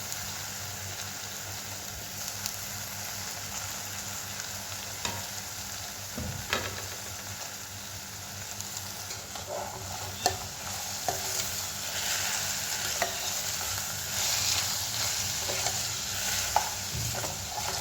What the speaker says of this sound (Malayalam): നമുക്ക് നന്നായിട്ട് ഇളക്കി ചെറുതായിട്ടൊന്ന് വഴറ്റിയെടുക്കാം